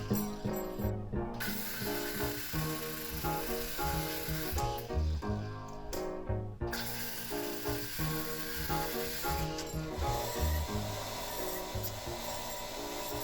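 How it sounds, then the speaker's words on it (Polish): A threaded rod is cut by hand for a lamp made of wooden slices, producing a close, continuous rasping and scraping in quick repeated strokes with short pauses. "No a teraz docinam pręt gwintowany, który będzie łączył całość."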